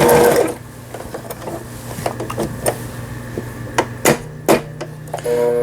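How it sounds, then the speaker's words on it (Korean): A Brother GS2500 sewing machine runs a zigzag stitch. A loud burst of motor noise at the start is followed by a low steady hum with sharp intermittent clacks and knocks. "지그잭 바느질"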